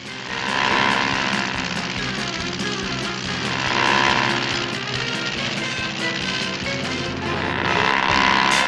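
A propeller airplane in a Scooby-Doo cartoon drones loud and steady throughout, a continuous buzzing engine roar with slight swells and no talking.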